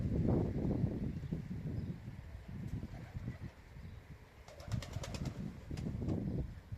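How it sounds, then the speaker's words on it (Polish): Pigeons, young autumn birds on a rooftop, flap their wings in short bursts with a few soft coos, fairly close and quiet against steady outdoor ambience. "ta lekkość lotu tych gołębi"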